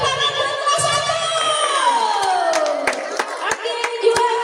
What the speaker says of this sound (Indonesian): Tepuk tangan buat kelas 1.